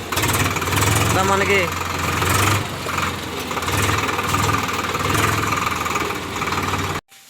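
A tractor engine runs with a steady low rumble and throb close by, under talk, and cuts off abruptly at the very end.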